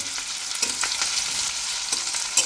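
Chopped garlic and ginger sizzle in hot oil in a wok, a loud, close, continuous hiss broken by a few brief bursts of stirring.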